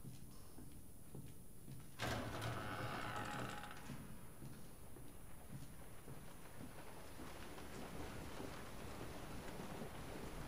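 Steady rain hisses in Resident Evil 7, a soft, even wash of noise throughout, briefly broken early by a louder sliding, door-like clatter.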